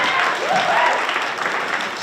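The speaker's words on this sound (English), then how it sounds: "Round of applause." Brief burst of audience applause at a school assembly, a dense wash of clapping that carries on briefly with a voice faintly over it.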